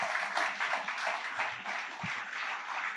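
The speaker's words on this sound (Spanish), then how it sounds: "Dale fuerte ese aplauso a Dios." Steady applause from a church congregation during a Spanish-language sermon, dense and continuous throughout, with no voices standing out.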